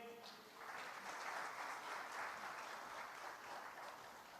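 A church congregation breaks into applause during a sermon, a soft, distant wash of clapping that swells after a brief pause and holds steady, with faint voices beneath.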